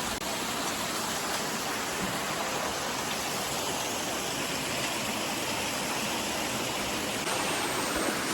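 Water rushing along a channel toward a lake near the Gandipet Maisamma temple in Hyderabad makes a steady, loud, continuous broadband roar, with no voices heard.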